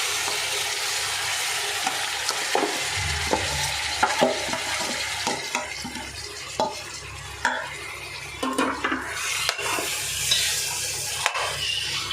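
Marinated fish frying in a pan with onion and green chilli, a continuous sizzle under irregular stirring and scraping, with occasional clinks of a utensil against the pan, close and fairly loud, no voices.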